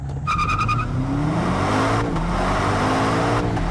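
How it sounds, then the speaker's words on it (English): A 2025 BMW M5 Touring launches hard with launch control and accelerates loudly, turbo boost building, engine pitch climbing through gears with brief shift breaks, after a short beeping tone at the start. "Let me demonstrate the acceleration in this with launch control."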